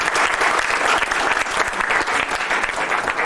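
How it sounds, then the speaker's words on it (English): A conference audience at the 1991 International Space Development Conference claps for a speaker after a lunar-industry talk: dense, sustained applause filling the room at close range, with no speech. "give Dr. Sanchez a round of applause"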